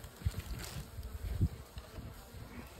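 Honeybees buzz in a pair of strong nucleus colonies packed wall to wall, a low steady hum with small swells, close by and on its own.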